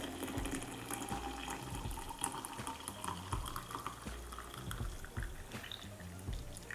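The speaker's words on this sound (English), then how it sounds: "And now we just pour the water in." Just-boiled water from a kettle poured into a metal-ringed French press glass carafe for coffee, a steady continuous gurgling splash that runs loud and unbroken for several seconds with no talking.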